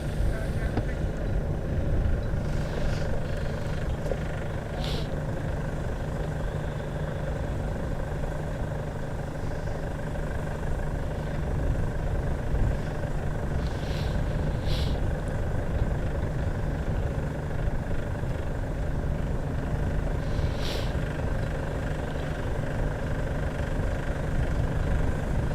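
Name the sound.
Nimrod XV232 aircraft APU running during engine run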